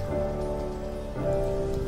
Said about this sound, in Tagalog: Maulan-ulan ngayon yung panahon dito.